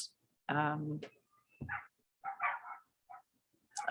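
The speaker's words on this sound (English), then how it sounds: "I'm just totally distracted by these dogs." Dogs bark and yip in short bursts, fairly close, during a regular council meeting, with gaps of quiet between them and a voice talking nearby.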